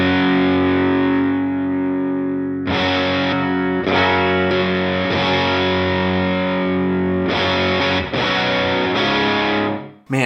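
Distorted electric guitar chords ring out through a Hungry Panda delay pedal set to an even half mix, loud and sustained, with repeated strums whose echoes trail and smear into one another.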